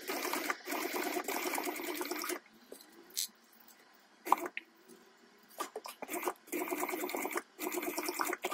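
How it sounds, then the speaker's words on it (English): A sewing machine stitches zipper tabs onto a tote bag in two long bursts at the start and end. Short stops and taps of fabric handling fall in between. "I'm going to go ahead and stitch on my zipper tabs"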